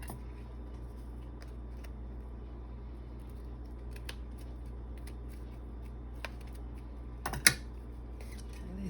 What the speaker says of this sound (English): scissors do not want to cut